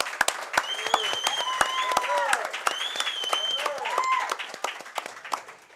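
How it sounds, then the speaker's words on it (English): A studio audience at a football coaches show claps in a sustained round of applause with sharp individual claps, while whistles and cheers rise over it. "give a huge round of applause"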